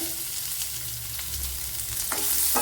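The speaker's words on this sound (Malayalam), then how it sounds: "വെളുത്തുള്ളി ഇഞ്ചി മുളകൊക്കെ വഴണ്ട് വന്നിട്ടുണ്ട് അതിലേക്ക് ഒരു സവാള ഇട്ട് കൊടുക്കാം" Onion added to a pan where garlic, ginger and chili are already frying, sizzling steadily and close up with a couple of brief stirring clatters, no voices.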